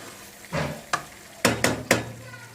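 Green beans sautéing with tomatoes in a pan give off a soft sizzle, broken by several sharp stirring scrapes and clinks of a utensil against the pan, heard up close with no talk.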